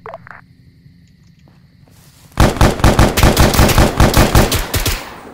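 Arma 3 gunfire: a quiet, low rumbling stretch gives way to loud, sustained rapid automatic bursts that keep going in a fast rhythm until the end.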